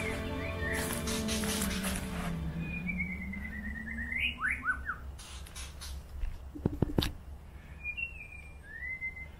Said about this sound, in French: Il y a des oiseaux magnifiques.